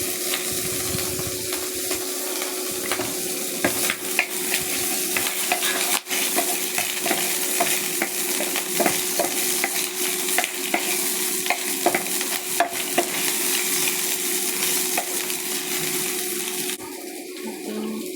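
Garlic and onion stirred in butter and oil in a pan, a loud continuous sizzle broken by scraping stirs and clinks of the utensil, with no talking.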